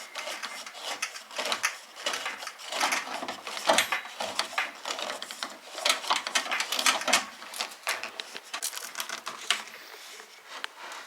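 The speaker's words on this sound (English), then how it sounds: "This little plastic tool came with the sink to tighten the nut on the bottom." A small plastic wrench that came with a new sink is turning the mounting nut underneath it. The ratcheting and scraping clicks come in close, busy bursts with no talk.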